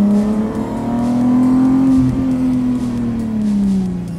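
A VW Golf Cabrio with a VR6 engine revs close by, its loud droning note rising and falling smoothly through the throttle blips, with overrun crackle on the lift-off and no talking.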